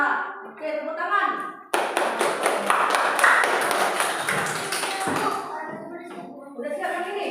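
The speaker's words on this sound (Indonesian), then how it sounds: "Oke, tepuk tangan." A class of primary school students applauding together, a burst of dense, loud clapping lasting several seconds that gradually thins out, with a teacher talking before and after.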